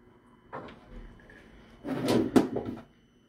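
A storage drawer is handled while shelves are being loaded: a light slide and knock, then a louder burst of sliding and a sharp bump, alone with no talking.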